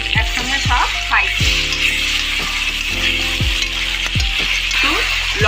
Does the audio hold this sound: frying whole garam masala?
yes